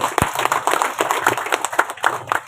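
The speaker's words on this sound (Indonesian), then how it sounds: "Tepuk tangan untuk teman-teman Perdami." Steady applause from a crowd at a cataract surgery event in Kalabahi, a dense patter of many hands clapping at close range with no pause.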